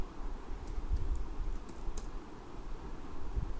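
Fast, steady typing on a computer keyboard while CSS code is written, with close, quiet key clicks over a low background hum.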